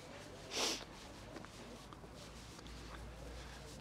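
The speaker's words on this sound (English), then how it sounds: "Can hopefully edit all the sniffs out." One sharp, close sniff near the start, then faint breathing and soft rustling in a quiet room.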